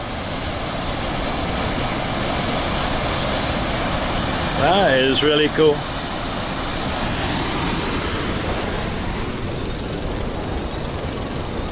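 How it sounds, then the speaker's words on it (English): A powerful waterfall pours down at Lake Phewa, Nepal, a dense, steady roar of rushing water filling the whole stretch, with a brief spoken voice partway through. "Look at the power in that water coming down."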